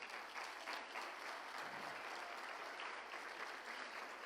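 A church congregation bursts into strong, continuous applause for Jesus, a dense wash of clapping that holds steady and fairly far off for the whole stretch.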